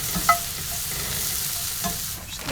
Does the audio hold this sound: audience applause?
no